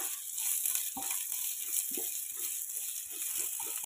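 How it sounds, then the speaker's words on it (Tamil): Chopped onions sauté in a pan for capsicum masala rice, giving a soft, steady sizzle with light stirring scrapes and rattles throughout. The sound is fairly quiet and close, with no voices. "நல்லா வதக்கிடுங்க வெங்காயத்தை."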